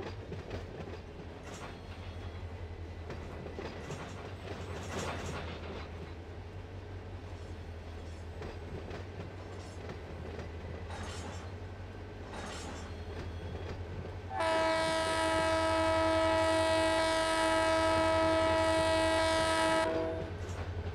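A freight train in the Run 8 rail simulator game rolls along with a steady low rumble and rhythmic clatter, then a loud sustained horn blast sounds for several seconds near the end.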